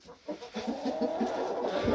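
Hens in a farm flock cluck in a quick repeating rhythm, close and moderately loud, with no talk.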